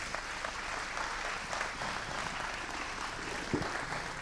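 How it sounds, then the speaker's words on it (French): An audience applauds after a round-table talk, a steady wash of many hands clapping heard from some distance in a large room. "Je pense qu'on peut vous applaudir."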